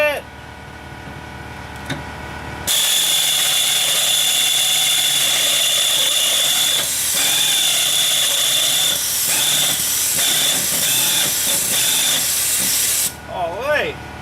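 A power drill bores and elongates holes in a steel mount for an old snowblower, a loud steady whirring grind lasting about ten seconds before stopping, with brief talk at the start and end.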